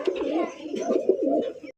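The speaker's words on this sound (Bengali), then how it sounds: "দেখেন কত সুন্দর একজোড়া কবুতর মাত্র পনেরোশো টাকায় পাইতেছেন" A pair of pigeons sold as a running breeding pair coo close by in soft rolling throaty phrases, several low burbling calls following one another evenly before the sound cuts off.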